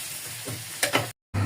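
Ingredients frying in a pan for hilsa fish polau, a steady close sizzle with stirring scrapes and a brief louder clatter, cutting out for a moment before the sizzling returns.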